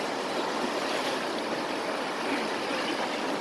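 Flooded stream rushing after heavy rain, a dense continuous roar of turbulent water, steady and fairly close with no voices.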